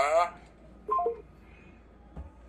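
Telephone dialing tones beep briefly in a short cluster of distinct electronic key presses, preceded by a speaking voice and followed by a faint thump.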